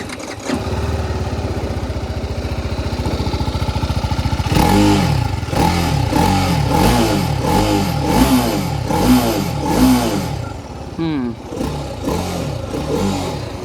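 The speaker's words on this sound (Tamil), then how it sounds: "ஸோ இது எக்ஸாஸ்ட் நோட் எப்படி இருக்குது அப்படின்றத நீங்கள் கேளுங்க." A 2025 TVS Apache RR310, a 300cc motorcycle, idles with a steady close exhaust burble, then is revved in a series of rising and falling blips before settling back to idle.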